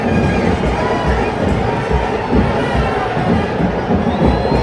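A dense festival crowd roars and cheers at the Ekveera palkhi procession in 2024, a steady wall of many voices with children shouting, loud and continuous throughout.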